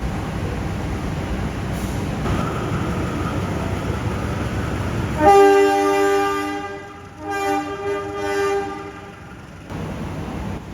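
A train horn blows loudly and steadily for several seconds over a rumbling rail background, with a brief break before it sounds again, on the Ambarawa Ekspres train in Indonesia.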